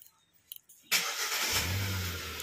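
A Hyundai i10 Grand engine starts with a short crank and catches into a steady low idle, close and moderately loud, after a few faint clicks, with no voices.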